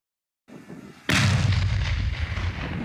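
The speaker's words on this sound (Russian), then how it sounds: "Взрыв посреди распаханного поля" A single powerful blast booms suddenly in a plowed field after a moment of quiet rumble, followed by a sustained roaring wash of debris and echo outdoors.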